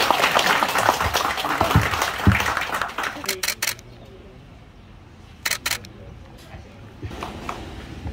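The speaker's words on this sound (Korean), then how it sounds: "큰 박수로 맞아주세요." Crowd applause at a senior center completion ceremony in Junghwagye-ri, Bukbang-myeon, Hongcheon, loud and dense for about three seconds, then giving way to quieter room noise broken by short bursts of camera shutter clicks.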